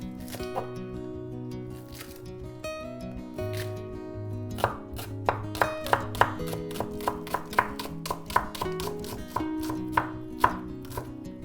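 A kitchen knife chops vegetables, including green onion, for restaurant-style veg fried rice. The knife strikes a board in quick, crisp, evenly spaced knocks close to the mic, and music plays softly underneath.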